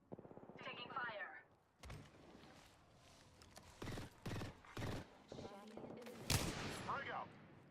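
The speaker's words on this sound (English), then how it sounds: "Taking fire." Gunfire in a battle royale video game, scattered sharp shots and bursts mixed with other game sounds, and a person speaks partway through.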